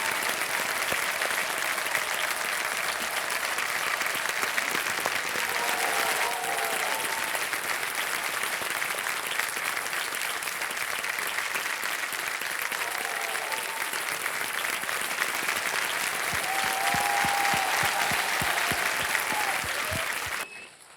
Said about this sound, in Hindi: तालियां हैं इनके लिए